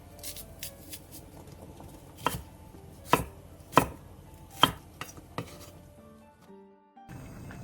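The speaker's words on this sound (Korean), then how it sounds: "양파 2분의 1개와 당근, 대파 조금을 한입 크기로 큼직하게 잘라주세요." A knife chops onion, carrot and green onion into chunks on a board, giving light quick taps at first and then several sharp, louder, spaced chops, close and alone.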